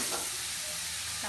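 Garlic paste dropped into a hot frying pan with oil, giving a steady close sizzle with a light stir of a utensil, alone with no talk, while a Bengali fish-and-eggplant dish is cooked.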